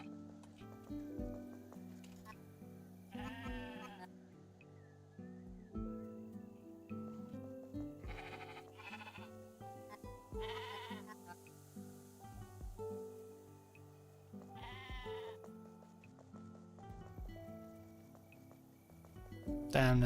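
Sheep bleating in the video game Discounty, several wavering bleats scattered over a soft melodic music bed, moderately faint and spaced apart.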